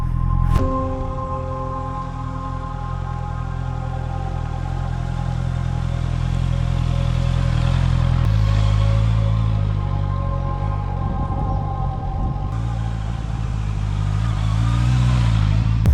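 A sport motorcycle rides along a sandy forest road, its engine droning steadily and fairly loud close by, with the revs rising and falling slightly as it moves along.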